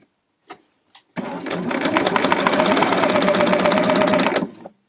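A sewing machine sews an elastic smock stitch at a long stitch length, starting after two soft clicks and running in a steady, close, rapid mechanical whir for about three seconds before stopping.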